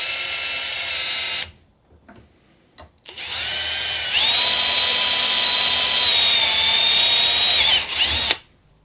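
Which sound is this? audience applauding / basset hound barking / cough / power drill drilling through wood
power drill drilling through wood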